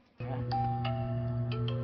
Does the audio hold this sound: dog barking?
no